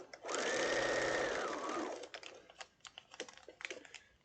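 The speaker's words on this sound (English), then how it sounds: "And sew all the way through and come off the other side" A sewing machine stitches fabric through foundation paper for a small foundation-pieced quilt block, a steady close whir lasting about two seconds before stopping, followed by faint handling clicks and rustles.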